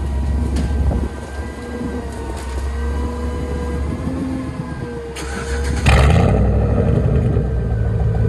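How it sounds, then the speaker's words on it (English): A Chevy Tahoe with a BTR stage 2 cam, DoD kit and straight-pipe exhaust (muffler and resonator delete, 3-inch pipe, 4-inch tip) starts cold. A low idle rumble is heard first, then a louder, rougher surge near the end. "Last cold start, straight pipe, muffler, resonator delete, 3-inch pipe, 4-inch tip."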